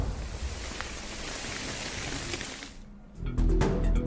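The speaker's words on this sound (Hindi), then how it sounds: "सासाराम में 1 घंटे की मूसलाधार बारिश ने पूरे नगर को पानी पानी कर दिया" Heavy monsoon downpour in Sasaram makes a dense, steady hiss of rain. Near the end it turns louder and closer, with heavier splashing.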